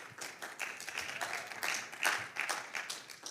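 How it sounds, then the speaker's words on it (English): Theatre audience applauding after a performance, fairly faint, uneven clapping from a modest crowd with a few brighter claps standing out, continuing steadily. "Another round of applause for Just Goliath."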